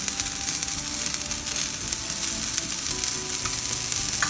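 Broccoli mixture frying in a pan, giving a loud, dense, continuous sizzle with faint crackles and no talking.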